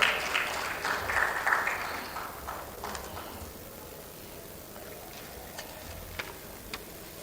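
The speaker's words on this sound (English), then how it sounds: "Please give her a round of applause as she comes up." A conference audience at a regional women, peace and security gathering applauds as a speaker comes up, the clapping loudest at first, then thinning out into a handful of sparse, isolated claps.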